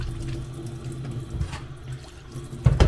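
Water pours from a tap into a container of liquid soap to start making foam, a steady close splashing flow that ends with a louder gush.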